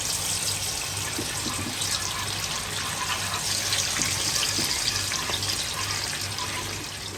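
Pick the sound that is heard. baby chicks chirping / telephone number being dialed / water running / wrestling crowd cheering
water running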